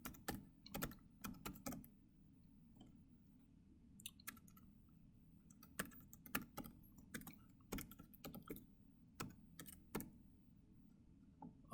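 Quiet, close keys tapped on a computer keyboard while entering an email address, in short irregular bursts of light clicks separated by pauses.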